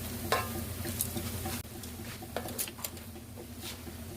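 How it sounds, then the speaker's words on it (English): Flour being stirred into steak tips and gravy in a pan, soft scraping and stirring strokes over a low sizzle, close by with intermittent spoon taps. "stir flour and cook for about a minute"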